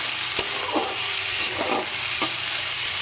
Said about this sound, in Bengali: সব ভেজিটেবলসগুলোকে আগে ভালো করে ভেজে নেব।